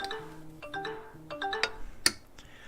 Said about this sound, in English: That was my phone giving me news updates.